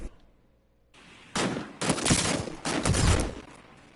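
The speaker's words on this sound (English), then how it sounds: "So 2-3 shots of that DMR and he's toast." Bursts of DMR rifle fire in the Fortnite video game ring out after a quiet start, with three loud clusters of rapid, overlapping shots close together.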